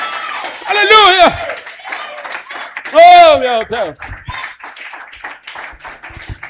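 A church congregation claps and applauds while excited voices call out loudly over the clapping, which rises in bursts and then settles into a scattered patter.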